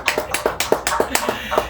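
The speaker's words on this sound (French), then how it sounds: "Applaudissons pour les bien-aimés de Bordeaux." A church congregation claps in a quick, steady rhythm, with about a dozen sharp, close claps in unison and a faint underlying murmur.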